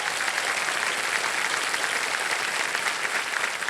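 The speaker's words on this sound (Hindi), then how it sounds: "तालियां बज जाए।" A game show studio audience applauds in a steady, full burst of clapping that stays even and continuous from start to finish.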